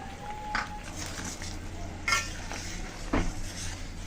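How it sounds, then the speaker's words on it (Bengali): Soybean curry with added salt being stirred in a pan: a few scraping and clinking spoon strokes over a low background simmer, close and moderately loud, with no speech. "ভালো করে একটু মিশিয়ে নিচ্ছি"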